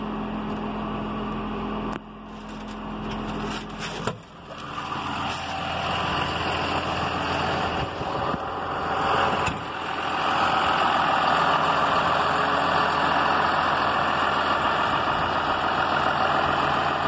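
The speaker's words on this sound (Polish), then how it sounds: "Silnik chodzi bardzo ładnie." John Deere 6920S AutoPower tractor diesel engine idling steadily in good condition, a close, continuous low rumble with a few brief knocks and shifts early on, no talk.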